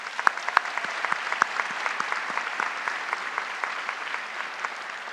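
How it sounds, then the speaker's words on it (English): At a high school graduation ceremony, an audience gives steady applause, with scattered sharp individual claps standing out over a continuous, moderately distant wash of clapping. "please join me in thanking them with a round of applause."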